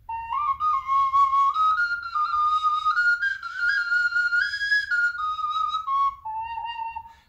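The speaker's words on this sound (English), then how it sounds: "This four-hole whistle was historically something that Native people played." A four-hole Native American style whistle plays a continuous wavering melody, clear and close, with sustained notes rising and falling in pitch and no voices.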